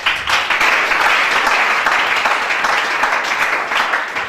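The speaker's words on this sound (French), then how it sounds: "Acclamez chacun." A church congregation breaks into loud, sustained applause, a dense wash of many hands clapping close by without a break, with faint voices mixed in.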